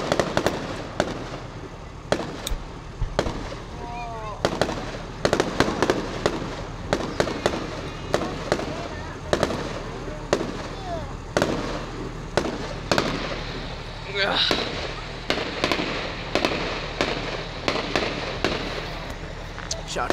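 Fireworks explode in a long, irregular series of sharp bangs and crackles, some near and loud, with voices talking and whistling sounds between the blasts.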